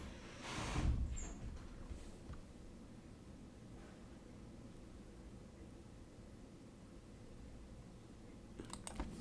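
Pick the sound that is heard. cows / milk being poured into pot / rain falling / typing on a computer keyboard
typing on a computer keyboard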